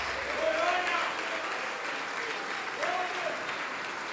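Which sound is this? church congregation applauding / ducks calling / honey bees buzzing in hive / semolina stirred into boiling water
church congregation applauding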